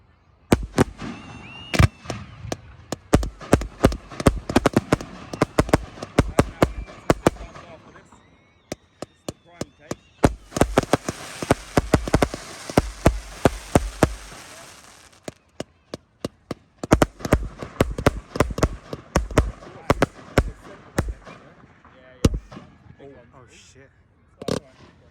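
Bonfire Night fireworks go off in a rapid string of sharp cracks and bangs, some with a hissing fizz between them, coming in dense volleys with brief lulls and ending in scattered pops.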